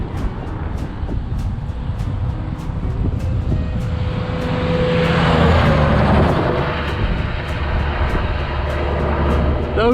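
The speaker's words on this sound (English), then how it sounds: "especially if you get 2 or 3 big trucks going past at once" Big trucks rumble past on a roadside in Texas, a broad roaring swell that builds to a loud peak midway and then holds as heavy traffic noise with wind buffeting, close by.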